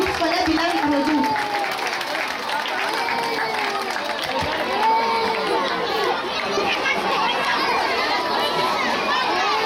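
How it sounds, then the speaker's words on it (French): Audience applauding the director of a bilingual school group at a school ceremony in Douala, Cameroon: steady, dense clapping with crowd chatter and children's voices mixed in throughout. "On applaudit pour le directeur du groupe scolaire bilingue La Redoute."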